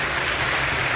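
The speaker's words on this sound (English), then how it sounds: "I was looking for that applause" Audience applause at a StarCraft 2 finals event at Assembly Winter 2012, a steady, dense wash of clapping from a large crowd, continuous and fairly loud throughout the short stretch with no voices on top.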